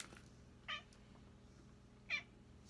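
A cat meows twice, two short, faint cries separated by a pause of over a second, heard alone against a quiet indoor room hum.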